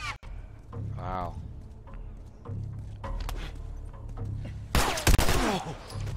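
Gunfire in The Last of Us during a fight with fungus-infected zombies, scattered shots under frequent talk, ending in a louder, sharper burst of shooting near the close.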